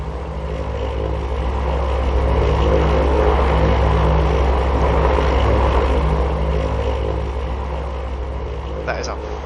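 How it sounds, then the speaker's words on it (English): A loud plane in Farming Simulator 19 drones overhead as a steady, heavy engine rumble that swells and holds across the clip, with a brief click near the end. "That is a very loud plane."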